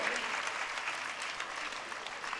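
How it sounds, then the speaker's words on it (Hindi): An audience gives dense, sustained applause to an honoree receiving a memento at an Independence Day evening programme by Gunjan Kala Sadan in Jabalpur, steady and fairly distant for the whole stretch. "बहुत जोरदार ताली उनके लिए होनी चाहिए"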